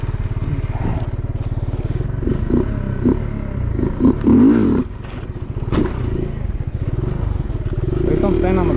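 A motorcycle engine idles and revs steadily during driveway stunts, with bursts of throttle, scrapes and clatter, and someone talks over it near the microphone.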